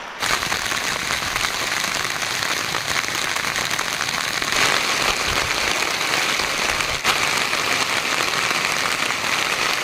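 Heavy rain, driven by wind, pours down in a dense, continuous hiss and patter on nearby surfaces at a natural fishing spot. It stays loud and unbroken throughout, with no talk.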